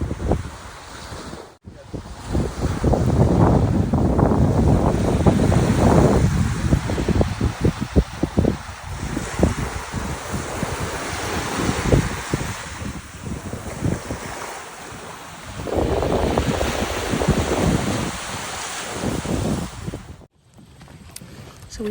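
Ocean surf breaks steadily on a beach at Plymouth, Massachusetts, with heavy wind buffeting the microphone throughout and rolling waves swelling and easing, no talk.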